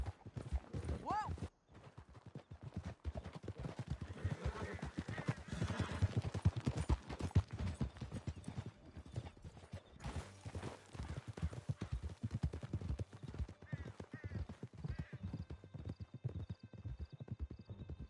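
Horses gallop hard in Red Dead Redemption II during a canyon escape, rapid hoofbeats pounding steadily under shouting voices, with a whinny near the start and a few distant shots mixed in.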